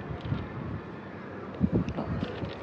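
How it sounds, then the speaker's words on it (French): Light wind buffets the microphone throughout, a steady low rumble with occasional stronger gusts, outdoors while crocheting a poncho, with no voice present. "Alors, désolé, il y a un petit vent."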